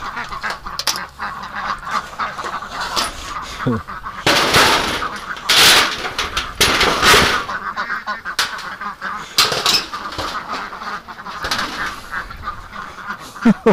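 A flock of over 1,000 ducks penned behind a gate on gravel quacks and honks loudly in overlapping bursts, with a few louder calls standing out up close.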